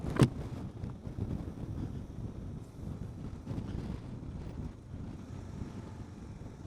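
Strong wind buffets the microphone continuously on a beach, a low rumbling roar with gusts rising and falling and no voices.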